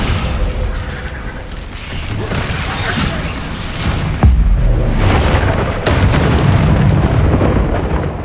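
Spell impact booms from a Hogwarts Legacy duel in the mine, loud and continuous with dense rumbling blasts and a sharp heavy hit partway through, all over a constant game soundscape.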